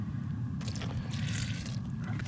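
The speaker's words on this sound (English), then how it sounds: "I'm gonna go with 4 cups of water." Four cups of water pour into a bowl of flour, yeast and salt for a no-knead grandma-style sheet tray pizza dough, giving a brief, close, splashing rush that lasts a little over a second.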